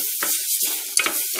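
Ground coconut paste sautéing in a pan, a soft continuous sizzle with brief stirring scrapes and a small clack near the middle, close and moderately quiet.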